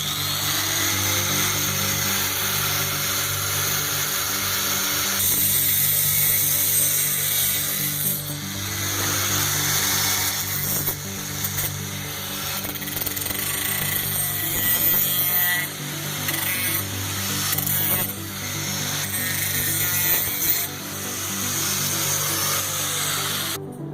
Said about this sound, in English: I'm ready to use my ankle grinder and cut these off.